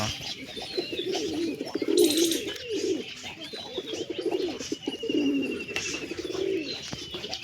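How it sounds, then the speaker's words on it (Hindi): Wild pigeons coo repeatedly in low, throaty rolling phrases, close by, with a couple of sharp flutters or knocks mixed in. "નર પણ એક કૂકે છે"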